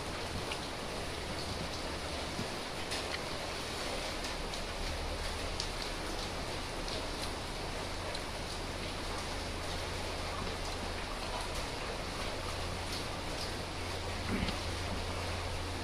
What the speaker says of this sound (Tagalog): Sarap kumain ng ganito yung lakas ng buhos ng ulan